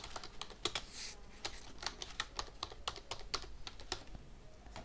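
Keys clack steadily on a computer keyboard while someone types a heading into a word-processing document, a quick irregular run of close, crisp taps lasting several seconds with no talk.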